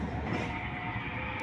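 JR 205-46 KRL commuter train rolling into a station platform on a drizzly day, a steady, loud low rumble of wheels and motors with a faint high whine, continuous and close.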